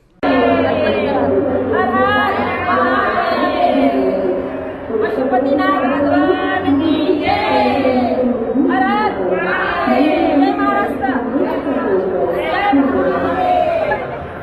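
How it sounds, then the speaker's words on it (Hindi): A dense crowd of devotees chatters at a temple on Mahashivratri, many overlapping voices forming a steady, close murmur with a brief dip partway through. "आज महाशिवरात्रि है, श्रद्धालुओं की भीड़ लग रही"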